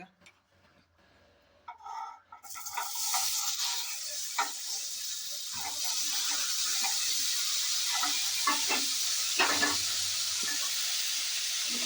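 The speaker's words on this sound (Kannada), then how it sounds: "ಅದೊಟ್ಟಿಗೆ ಈಗ ಪನ್ನೀರ್ ಹಾಕ್ಬಿಟ್ಟು ಫ್ರೆಂಡ್ಸ್ ಈಗ ಮಿಕ್ಸ್ ಮಾಡ್ತಿದ್ದೀವಿ" Paneer cubes fry in browned butter with a loud, steady sizzle and hiss, broken by scraping stirs against the pan; a few quiet clinks come before the frying swells.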